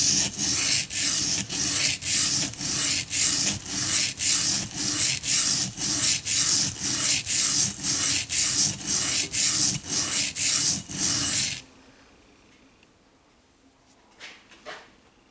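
A high carbon steel knife with corrosion on it is ground on a crystalline sharpening stone in steady, rhythmic back-and-forth rasping strokes, close and loud, before stopping into near quiet with a few faint knocks.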